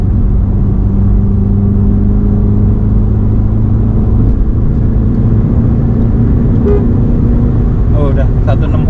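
BMW 330i M-Sport G20 cruising at high speed, a loud steady engine and road drone with a constant low hum from inside the cabin, with a few light clicks near the end.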